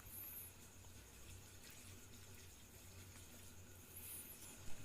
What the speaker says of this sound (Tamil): இப்போ பார்த்தீங்கன்னா தண்ணி ஊற்றிக்கலாம்.